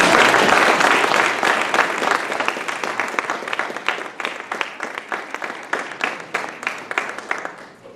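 An audience at an alumnus of the year and athletic hall of fame award ceremony gives a round of applause, loud and dense at first, then thinning into looser individual claps as it fades.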